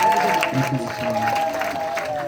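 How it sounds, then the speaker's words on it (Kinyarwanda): Guests applaud at a Rwandan wedding, a steady wash of clapping that carries under a voice speaking over it, with a sustained tone running through. "Mumuhe amashyi menshi dukomeza kumushima kuko tubazwe neza"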